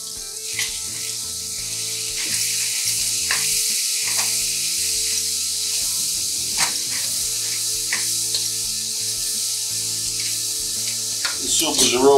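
Onions, peppers and garlic sizzle steadily as they are lightly sautéed in a pan for a quick soup, with a constant close frying hiss and occasional scrapes and taps throughout, over a faint tonal background.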